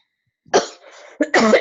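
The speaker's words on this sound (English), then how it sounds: "I'm coughing" Two close, loud coughs from a woman on a group video call, the second harsher and longer, with a short throat-clearing rasp between them.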